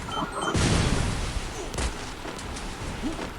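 A grenade goes off in a Free Fire tournament match, a loud broadband blast with a sustained roar that fades into continuing gunfire and game noise, with a few brief voice fragments.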